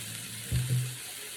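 A steak flipped in a frying pan for bistec borracho gives a short soft thud and a brief burst of sizzling. The hiss then settles back into a steady, quiet fry.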